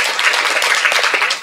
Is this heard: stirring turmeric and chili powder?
no